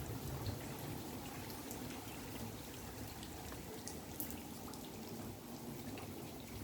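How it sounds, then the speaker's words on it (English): Rain on a windy Saturday morning falls in a steady, soft patter with scattered drips, a constant wash of water noise holding an even level throughout with no voices. "Love it when it rains."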